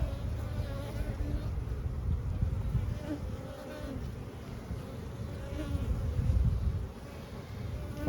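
Steady, dense buzzing of many honeybees close by at an opened hive during an inspection, a continuous hum with no one talking.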